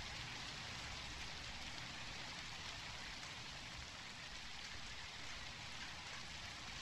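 Continuous downpour in the zombie video game ZombiU, an even, unbroken hiss of raindrops pattering on surfaces, alone and steady at moderate level from start to finish.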